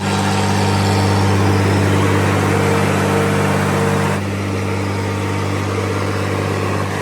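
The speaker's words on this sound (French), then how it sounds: "j'entends un bon moteur diesel qui tourne bien rond, qui fait un beau bruit" A diesel engine, not an American make, idles evenly at close range with a steady low rumble and a constant hum, and the tone shifts slightly partway through.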